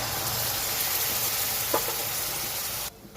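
Milk is poured into wheat flour frying in a pan for halwa, setting off a loud, steady sizzle and hiss that runs on evenly before suddenly cutting out near the end.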